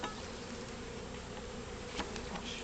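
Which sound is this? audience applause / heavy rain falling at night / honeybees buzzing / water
honeybees buzzing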